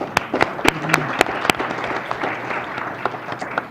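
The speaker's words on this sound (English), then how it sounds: "one more round of applause for our sponsors" Audience applause for sponsors at a local government professionals' event, with sharp individual claps standing out early over a thinner spread of clapping that gradually tapers off.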